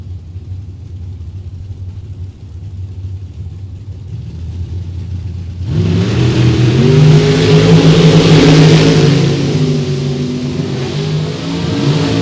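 Drag race cars at a Super Pro event, loud engine roar surging in at launch after a low idle rumble, then sustained full-throttle howl as the cars race away, with no talk over it.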